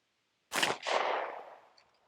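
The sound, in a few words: SIG P320 9mm pistol shots over chronograph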